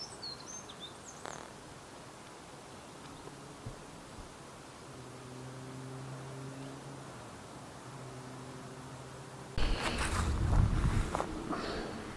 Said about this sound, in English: It's starting to get a bit more windy.